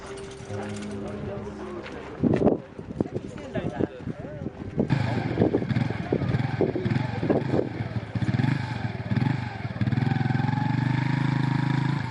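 A motorbike carrying a visually impaired man on the back rides away in a town, its engine rumbling under a voice talking throughout, with clattering noises along the way.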